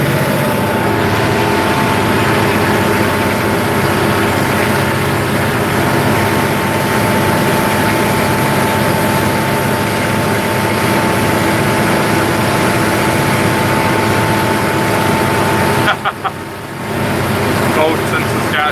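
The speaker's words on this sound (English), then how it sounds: "Listen to that big Cummins scream for a few minutes." A big Cummins diesel engine on a tractor seeding wheat roars steadily and loudly throughout, a deep constant drone with a brief dip near the end.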